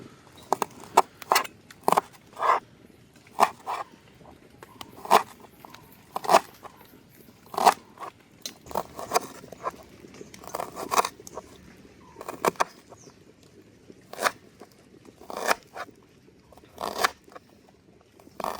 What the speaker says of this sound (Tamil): இந்த 2 வெங்காயத்தையும் நாங்கள் சின்ன சின்னதாக தான் வெட்டி எடுக்கணும்.